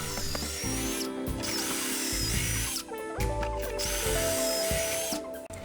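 A power drill bores pocket holes into plywood through a clamped pocket hole jig, whining loudly in two long runs with a brief stop between them and a ratcheting stutter near the end.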